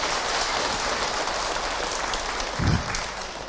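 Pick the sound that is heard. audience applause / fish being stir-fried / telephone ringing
audience applause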